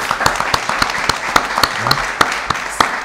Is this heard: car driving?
no